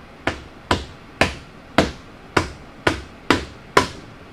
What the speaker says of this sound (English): I bet you can hit it with a mallet now.